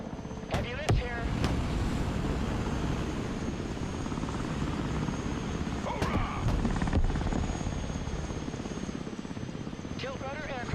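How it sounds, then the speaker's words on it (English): A tilt rotor aircraft drones steadily in the Broken Arrow strategy game, a continuous engine roar running throughout, with brief radio-style voice chatter and short clicks layered over it. "Tilt rotor aircraft here"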